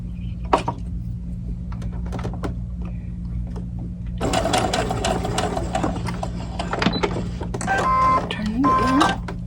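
A sewing machine stitches the seams of a doll dress, starting with a few short stitching bursts and then running in longer, louder runs over a constant low hum, with a few brief voice sounds mixed in.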